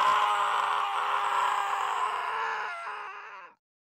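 A drawn-out scream of despair from a character in the visual novel Steins;Gate, loud and sustained for about three and a half seconds before cutting off into silence.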